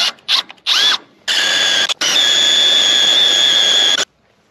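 An electric drill with a small bit bores through metal while fitting a trailer jack, starting with a few short whirring bursts and then running in one long, steady, loud, close whine before stopping.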